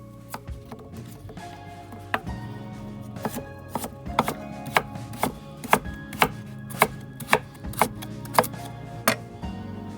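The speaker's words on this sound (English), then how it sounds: "now you just slice that up any old way and cook it alongside your florets" A knife slices through a broccoli stem on a cutting board in crisp, sharp chops, irregular at first and then settling into a quicker, steady rhythm of distinct close-up strikes, with no talking.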